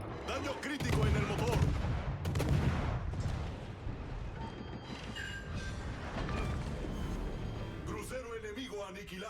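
Heavy naval gun salvos from the Spanish destroyer Alvaro de Bazan in World of Warships, booming in a few loud bursts with rumbling tails, mixed with game effects while a player talks over them.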